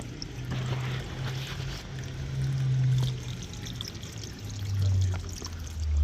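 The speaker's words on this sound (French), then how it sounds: "J'arrose ici et ça sort de l'autre côté." Water from a garden hose pours steadily onto a terrace crack during a leak check, a continuous splashing, gurgling flow nearby that swells and eases in volume, with no talking.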